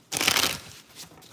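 A quick, close burst of tarot card shuffling opens loudly and fades into a lighter flick of cards, with no talk over it.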